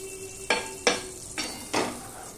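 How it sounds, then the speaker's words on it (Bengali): Mustard oil poured into a hot wok for tempering a Bengali winter khichuri, sizzling and crackling in four distinct bursts, fairly close and alone with no voices. "আমি আরেকটুখানি সর্ষের তেল দিয়ে দিলাম"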